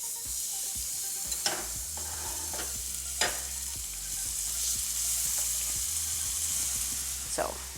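Pork chops sear in a hot pan with a loud, steady sizzle and hiss up close, broken by a few sharp spatters and scraping clinks.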